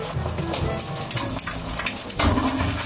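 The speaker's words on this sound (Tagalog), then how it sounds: "So nagprito ako ng iklog." Steady sizzle of eggs frying in a pan, crackling and popping continuously with a few clinks of a utensil, loud and close.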